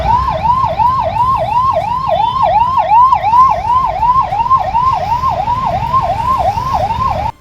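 An ambulance siren wails in a fast, regular up-and-down cycle, loud and close, repeating about twenty times over a faint traffic rumble before cutting off abruptly.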